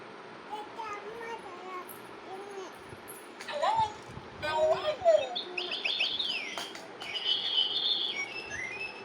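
High chirps and whistled calls from a parrot, several bursts in the second half, with a voice talking underneath.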